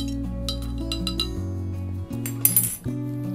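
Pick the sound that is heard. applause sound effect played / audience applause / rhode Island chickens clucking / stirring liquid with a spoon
stirring liquid with a spoon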